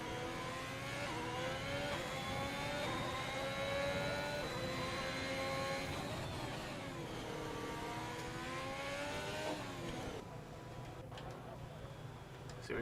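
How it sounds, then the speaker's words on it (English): A Ferrari's raspy engine revs and sweeps through gears in the Need for Speed racing game on a Singapore track, steady and close for about ten seconds before dropping away, with a voice talking over it. "There's just something about that Ferrari that just sounds wonderful every time I hop on board with it"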